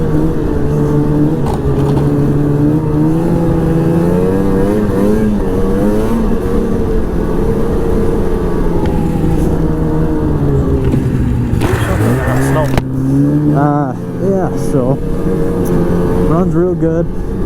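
A 2006 Ski-doo Renegade 600 SDI snowmobile runs on a snowy personal trail with a loud, close, sustained engine drone, its pitch rising and falling as the throttle changes, with a sharp rev burst later on.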